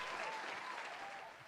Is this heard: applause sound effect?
yes